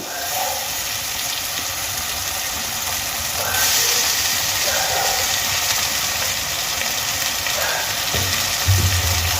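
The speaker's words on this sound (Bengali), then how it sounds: "এবার মশলার সঙ্গে আলুটা খুব ভালো করে আমি ভেজে নেব" Boiled, mashed potatoes frying with spices in a pan for Bengali aloo kachuri filling give a steady, close hiss of sizzling oil, with a few soft scrapes partway through and a low thump near the end.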